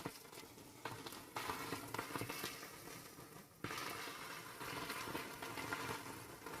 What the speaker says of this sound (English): Just love that sizzle.